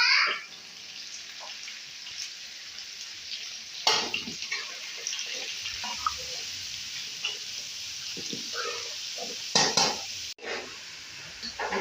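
Onions and chicken fry in a pot with a soft continuous sizzle and hiss, punctuated by scattered scraping stirs and a couple of louder clanks and splashes, close by and with no talk.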